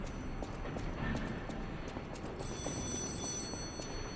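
A telephone rings in the video game Lies of P, a thin high ringing that comes in halfway through over steady clip-clop hoofbeats and background ambience, with no talk.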